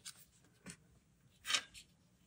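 Fountain pen nib with a firm tip, filled with Iroshizuku ink and writing in reverse on paper: faint, close scratchy strokes in a few short separate bursts, the loudest one near the end, over quiet background.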